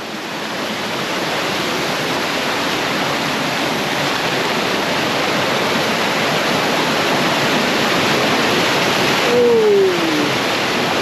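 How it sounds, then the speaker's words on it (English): Rapids of a waterfall in Jamaica roar as a loud, steady, broadband rush filling the whole stretch, with a brief faint whistle-like sound near the end. "I hope with all the sound of the rapids you can hear me."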